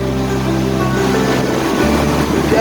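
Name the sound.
water rushing over Wilkes Dam on the Grand River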